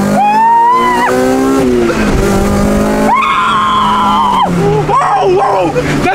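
Nissan Skyline engine revving hard, up close and loud, pitch climbing and falling through several sharp blips while people talk and react nearby.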